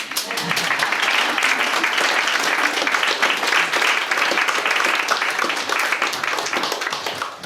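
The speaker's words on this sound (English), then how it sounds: "thanks for kicking off the applause that time" A large audience applauds steadily, a dense wash of clapping that holds at an even level without a break.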